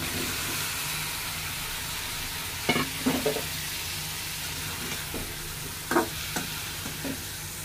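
Bottle gourd pieces added to spice paste of onion and ginger-garlic frying in a pan, giving a constant loud sizzle with a few brief scraping stirs and clunks, no speech.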